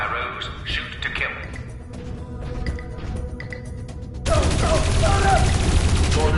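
Gunfire in the Dreamfall Chapters video game breaks out as a sudden, loud, dense burst of rapid shots after a stretch of tense game sound, with voices talking through the scene.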